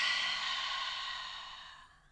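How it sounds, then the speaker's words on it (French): A single long, breathy exhale through the mouth during a calm chakra breathing practice, close and soft, steadily fading over about two seconds with no talk. "Expire par la bouche."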